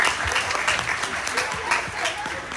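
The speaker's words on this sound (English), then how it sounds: "Nice round of applause for everyone." Brief, lively applause from attendees at a realtors' membership meeting and awards breakfast, with individual claps audible within the crowd's steady clatter.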